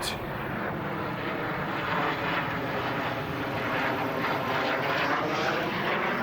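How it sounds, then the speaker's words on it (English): A steady, broad engine roar from a jet aircraft passing overhead near Cibolo Creek, continuous and fairly loud throughout with no voices. "And I'm trying to get this jet."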